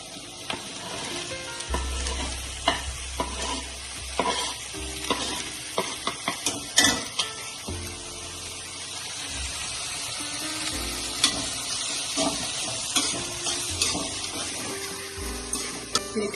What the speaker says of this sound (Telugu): ఇది కాస్త బాగా వేగనివ్వాలి.